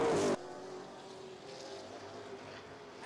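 Race cars circling Flat Rock Speedway in an ARCA/CRA Super Series event, a steady distant engine drone after a brief louder burst at the start, with no talk.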